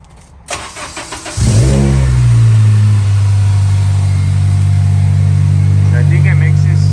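An Acura RSX engine with an Injen cold air intake cranks and starts after some clatter, then settles into a loud, steady low rumble at a fast idle.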